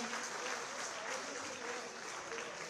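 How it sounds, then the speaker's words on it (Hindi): Sustained applause from a crowd at a live political welcome event in Amritsar, Punjab, a dense, even wash of clapping heard from some distance at low level throughout. "कृपया जोरदार तालियां बजाकर"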